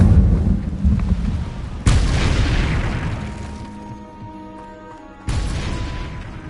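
Incendio fire spell from a Hogwarts video game: two heavy booming blasts, the first decaying over several seconds into a low rumble before a second sharp burst hits, with no voices.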